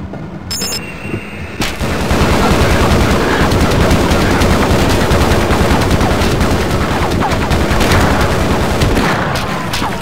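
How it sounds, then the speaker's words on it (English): Security gun turrets in Half-Life open fire after a short burst of electronic beeps, then loud, dense automatic gunfire hammers on without pause for about eight seconds. "it still triggers the security guns"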